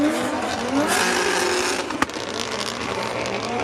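A race car engine revs loudly and continuously at a motorsport event, a dense roaring drone with a sharp crack or pop around the midpoint and a faint tire squeal.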